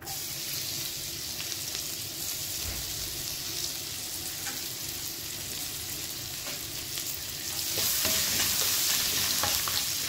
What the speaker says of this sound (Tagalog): Tapos mag-gisa ka na rin dyan ng bawang at saka sibuyas.